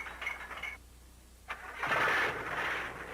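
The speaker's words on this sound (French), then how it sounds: "a décidé d'aller se promener à bord d'une de ses 200 automobiles" A car engine cranks in short bursts, falls quiet for a moment, then catches and roars into a loud, rough rumble that keeps running to the end.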